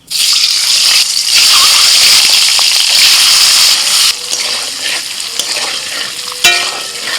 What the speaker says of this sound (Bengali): কড়াইতে তেলের মধ্যে একটু লবণ হলুদ দিয়ে দিয়েছি এখন ডিমগুলো ছেড়ে দিচ্ছি